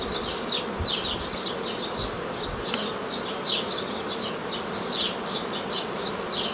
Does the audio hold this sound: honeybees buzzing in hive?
yes